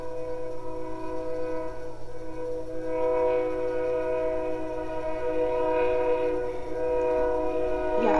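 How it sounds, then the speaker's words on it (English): A train passing on railroad tracks a block away, a long sustained horn chord holding steady for several seconds over a low rumble, fairly loud and alone. "I live a block from the railroad tracks, so you'll be hearing the trains going through a lot in my videos"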